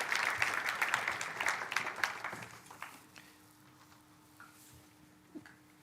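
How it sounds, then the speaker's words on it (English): Applause from a small gathered audience at a Convoy of Hope event, a few seconds of moderate clapping that thins out and fades, leaving a quiet room with faint stray claps. "Let's give them a round of applause."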